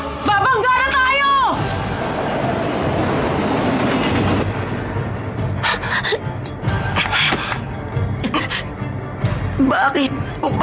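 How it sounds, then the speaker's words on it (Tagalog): A loud train roars and clatters close by, wheels rattling steadily, with shouting voices over it at the start and near the end, in a Tagalog-dubbed Boruto anime episode. "Parating na yung isang tren!"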